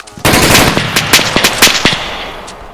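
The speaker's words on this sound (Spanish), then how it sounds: "Disparan, disparan." Loud, close gunfire in the Arma 3 military shooter, played as an insurgency guerrilla match: a sustained burst of automatic fire followed by several separate sharp cracks, with no talk over it.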